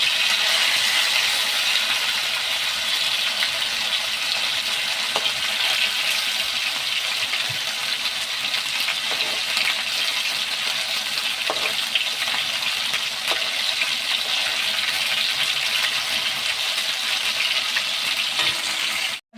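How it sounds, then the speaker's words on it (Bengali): Lote (Bombay duck) fish pieces dipped in gram flour batter fry in hot oil, giving a steady, loud, continuous sizzle with small pops and occasional light scraping of turning, heard alone without talk. "এভাবে প্রত্যেকটা মাছকে আমি বেসনের মধ্যে ডুবিয়ে ডুবিয়ে ভেজে নিচ্ছি।"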